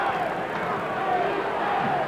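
An NBA Finals arena crowd in Los Angeles, 1980 Game 5, chanting a drawn-out "Cool" in unison, a loud sustained roar of many voices filling the hall with steady babble underneath.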